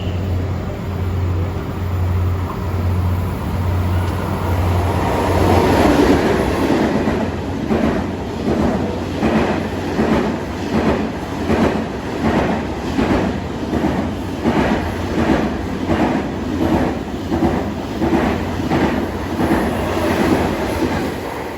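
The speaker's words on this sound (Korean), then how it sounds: "KTX 하나 지나고요" A high-speed KTX train rushes past close by at a station, its wheels beating a steady, rapid clickety-clack over the rails, loud and continuous with no voices.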